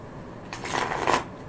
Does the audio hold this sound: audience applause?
no